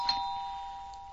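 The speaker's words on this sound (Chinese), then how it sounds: "第二天早上，一阵门铃声把他们吵醒。" A doorbell sound effect from a Chinese radio drama rings once as a clean, sustained electronic tone that holds steady and slowly fades over about a second, alone and clear.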